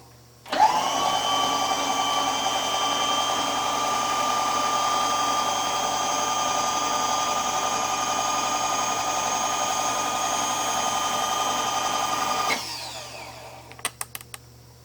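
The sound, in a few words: drill countersinking a hole for a ski boat rack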